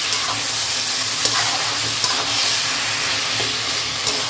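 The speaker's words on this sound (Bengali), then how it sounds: "এবার এর মধ্যে দিয়ে দেবো স্বাদ মতো নুন, আর দেবো চিনি। আর এটা ভালো করে একটু মিশিয়ে নেবো।" Taro leaves fry in a pan as salt and sugar are stirred in, making a loud, continuous close-up sizzle with occasional light clicks from the stirring.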